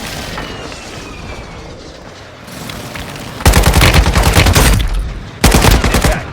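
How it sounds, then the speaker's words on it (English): An airstrike in the Warzone Mobile battle royale game brings two loud bursts of rapid explosions and gunfire, the first lasting about two seconds and the second shorter, after a quieter stretch of low rumbling. "Requesting airstrike. Target marked."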